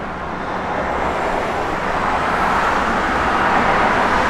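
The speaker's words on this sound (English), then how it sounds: "It's got a really nice sounding Flowmaster dual exhaust system on it." A 1973 Dodge Dart Sport engine idling through a Flowmaster dual exhaust, a loud, steady low rumble that stays even throughout with no talking.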